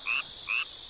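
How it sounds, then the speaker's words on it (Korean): Frogs croaking on a summer night: two short, bright croaks in quick succession over a steady high insect-like hiss, heard alone without speech. "개구리 소리도 나고."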